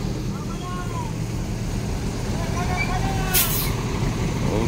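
An ANS intercity bus manoeuvres in a terminal, its engine rumbling steadily and loudly up close, with a sharp, brief burst of air-brake hiss partway through.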